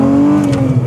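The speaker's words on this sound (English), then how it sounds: "there's a nostalgia for the sound of a VR makes" A Volkswagen VR6 engine revs briefly, a loud close burst of throaty engine tone that holds steady and then sags slightly within under a second.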